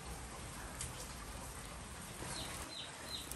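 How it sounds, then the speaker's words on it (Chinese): Steady rain falls on a cold day, a dense, even patter that fills the whole stretch, with a few faint high chirps briefly poking through near the end. "因为今天下雨嘛，所以呢天气比较冷的"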